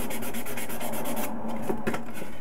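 Hand-sanding a wooden rifle stock on a sporter rifle, steady rhythmic rasping strokes up close with no talk.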